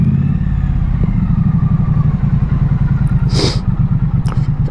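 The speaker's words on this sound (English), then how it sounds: "You're just getting a bonus now of me riding the bike" A 2016 Triumph Street Twin 900cc motorcycle rumbles steadily while riding, a loud close low engine pulse with a brief whoosh of passing traffic.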